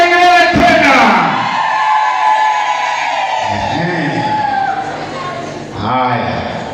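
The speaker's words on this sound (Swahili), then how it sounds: "Vigelegele tena." Wedding guests in a church ululate together in loud, warbling high-pitched trills that swell and fade, followed by a fresh burst of trilling near the end, with voices and crowd noise mixed in.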